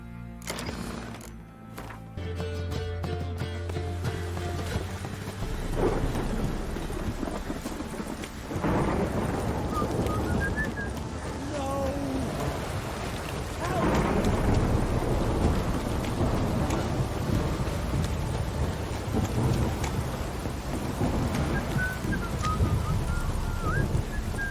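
Heavy rain pours continuously in The Witcher 3 video game while deep rolls of thunder rumble through, a loud, steady downpour with low booming swells and no voices.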